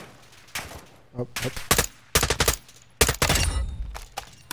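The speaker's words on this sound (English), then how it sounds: "Oh, I hear gunshot." Bursts of video game gunfire, single shots and rapid machine-gun volleys, come in several loud clusters, with a brief spoken word between them.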